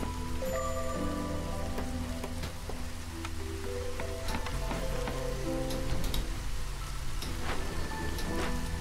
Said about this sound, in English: that's a drizzle geyser